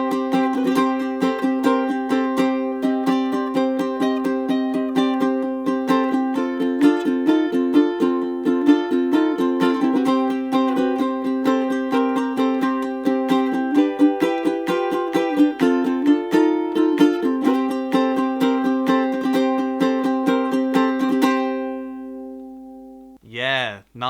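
A ukulele strums a steady, rhythmic rock riff with bright chords and muted chops, playing alone for about twenty seconds before a brief pause and a final ring.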